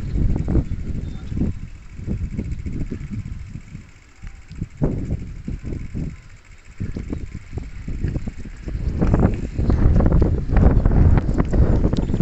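Wind gusts buffet the microphone on a hanging footbridge, a steady low rumble with stronger bursts near the end, mixed with faint knocking footsteps and no talk.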